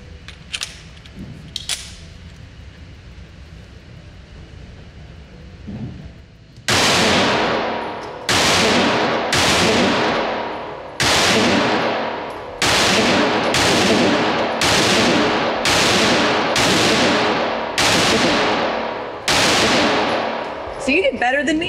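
An HK CC9 micro compact pistol fires about eleven loud, close gunshots in a steady, fairly rapid string. Each crack rings out briefly, after a few quieter handling sounds.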